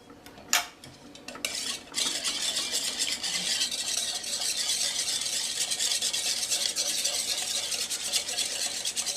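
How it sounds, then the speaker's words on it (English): A spoon clinks and scrapes steadily in a bowl while a Worcestershire sauce mixture is stirred. A few sharp taps come first, then continuous close rubbing and clattering. "Mix it up really, really well"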